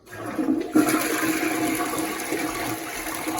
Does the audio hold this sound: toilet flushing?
yes